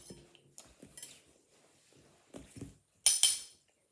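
Fizz bomb ingredients are stirred in a bowl with a utensil, giving soft scattered scrapes and taps and then a brighter clinking scrape near the end.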